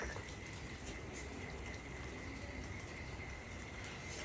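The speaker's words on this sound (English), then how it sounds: "it's raining and it's raining behind." Steady rain falls outdoors as a continuous broadband hiss with fine pattering drops, moderately faint and unbroken, no talking over it.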